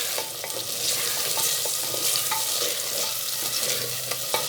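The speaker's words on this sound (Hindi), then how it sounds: "अब हम इसमें डालेंगे चिकन लिया है हमने 500 ग्राम।" Chicken stirred into sizzling masala for a bhindi gosht, frying steadily in hot oil with repeated scraping stir strokes close by and no talk.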